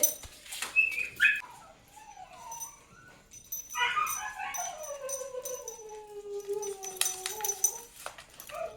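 Dogs whine and howl in drawn-out, wavering cries, with a few short yips at the start, fairly close.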